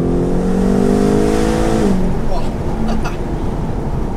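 A BMW M8 Competition convertible's engine revs up with a rising, sustained roar, then drops off as a person begins talking over the steady engine noise.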